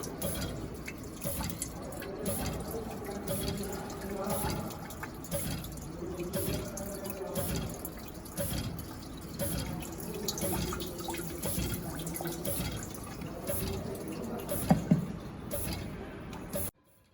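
Water runs and trickles steadily into a sample container from an aqueous return tank in a liquid-liquid extraction lab setup, with small drips and splashes over a continuous flowing wash, fairly close.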